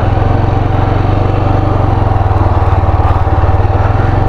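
A Yezdi motorcycle with failed clutch plates runs near a hill station, its engine loud and close with a steady, rapid thumping throb and no talk over it.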